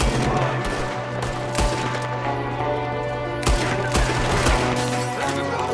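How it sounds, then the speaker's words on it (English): Gunfire in the PC game Red Dead Redemption 2, several sharp shots cracking out at irregular intervals over a steady background drone with game music, fairly loud and close. "There's another one shooting from the window."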